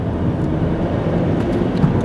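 An Alfa Romeo Stelvio Quadrifoglio's exhaust, shaped by a butterfly valve, drones loudly and continuously, a thick low burble holding steady with a brief sharper blip near the end.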